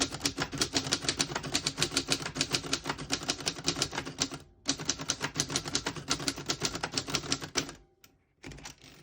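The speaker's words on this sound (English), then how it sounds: "I'll type a sentence on the next line." Rapid, steady clacking of a 1931 Corona 4 manual portable typewriter, keys striking in quick bursts with two short pauses and a carriage-return ding near the end.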